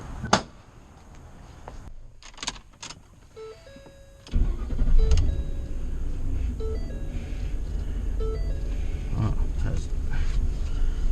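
A truck that another mechanic had given up on cranks with a few sharp clicks and mechanical sounds, then fires up and settles into a rough, steady running rumble, with a possible exhaust fault, heard close by.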